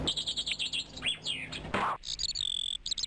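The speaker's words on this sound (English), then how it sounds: "because of the bird chirping" Birds chirp and tweet in rapid, repeated bursts during gameplay of a melee bump-attack game, with bright, close calls that rise, sweep and trill across the short stretch, and no voices.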